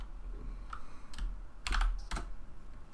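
Typing on a computer keyboard while writing code comments in a text preprocessor demo: a quick run of close, crisp key clicks in irregular bursts, with no talking.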